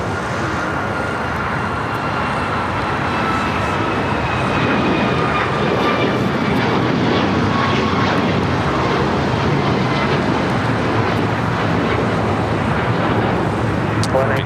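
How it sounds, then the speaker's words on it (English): China Airlines cargo Boeing 777 freighter, in from Taipei, arriving at LAX, its loud, steady jet roar filling the scene without letup and overlaid by faint tonal whines. "China Airlines cargo, flight 5382, 777 freighter coming in from Taipei"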